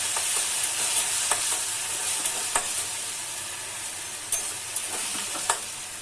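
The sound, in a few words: tomato paste added to frying onions, ginger and chilli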